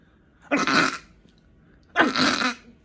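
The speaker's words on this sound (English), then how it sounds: "You need to learn the British internal sneeze." Two short, muffled bursts a second or so apart, a suppressed internal sneeze held in with the mouth closed. Each is a breathy, stifled puff close to the listener, with quiet in between and no speech.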